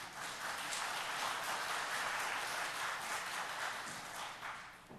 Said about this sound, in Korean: 박수를 치려면 힘차게 한번 다시 씁시다.